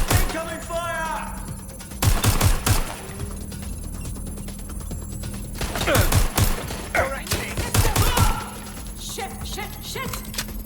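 Gunfire in Watch Dogs Legion breaks out in loud, sharp bursts separated by quieter stretches, with in-game voices talking between the shots.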